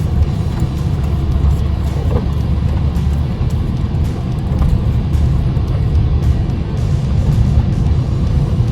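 An old Ford truck with very flat tires clunks down a road and swings wide through a turn, its engine a steady low rumble mixed with continuous broadband road and wind noise at close range, no talking.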